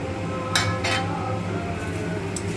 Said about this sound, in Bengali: একটু নেড়ে নেব।